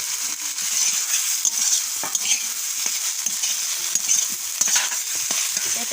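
Pre-fried potatoes go into spiced oil in a pan, giving a continuous bright sizzle with soft irregular scraping and stirring clatter throughout, no voices.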